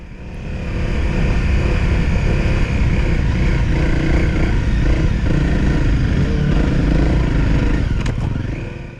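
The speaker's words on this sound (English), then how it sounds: "motorcycle on sand is like driving on a sheet of ice" Motorcycle engine droning loud and steady while riding through deep sand on the Poison Spider Mesa trail in Moab, with continuous revving and clatter, ending in a sharp knock near the end.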